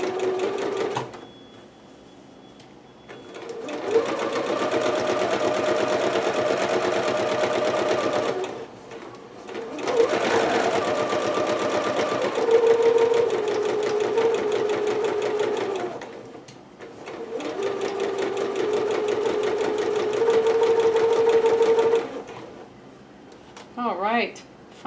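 A sewing machine stitches through fabric for a Pikachu dress, running in three long steady bursts of rapid needle chatter separated by brief pauses, loud and close, with a person's voice faintly under the motor.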